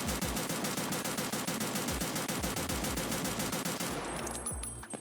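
Single-fire rifle shots in Escape From Tarkov, fired standing at a target during a recoil test: a rapid, steady, loud train of evenly spaced shots that stops near the end, leaving a faint tail.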